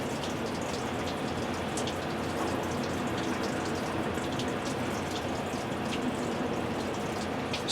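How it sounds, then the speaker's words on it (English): Water trickles and drips steadily from a floor drain plate on the passenger side of a RZR side-by-side, a faint, even patter continuing without pause. "Still waiting for the passenger side to drain completely."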